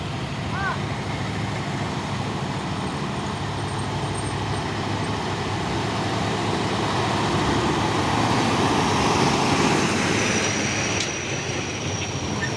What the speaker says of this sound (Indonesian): Dan di belakangnya juga ada satu nih truk Fuso tangki CPO